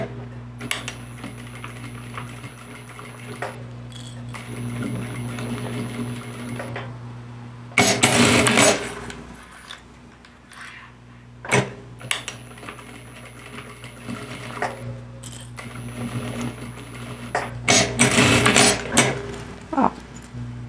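Sewing machine stitching a fabric bag near a zipper end with thin fabric, running in steady whirring bursts that stop and restart, with clattering handling noises between passes and no talk.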